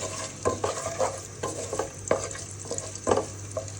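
Chopped onions frying in oil in a pot for a chicken curry, with a steady sizzle and repeated scraping stir strokes, close and moderately loud, no voices.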